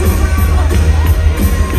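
Loud crowd at a workplace recognition event for qualifiers and assistant managers, a dense roar of clapping and cheering with scattered whoops throughout.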